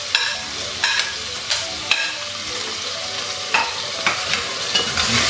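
Ginger and garlic sauté in a hot pan with a steady, close sizzle, while a spoon stirring against the pan makes regular scraping clicks.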